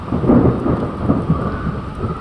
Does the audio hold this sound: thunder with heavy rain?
yes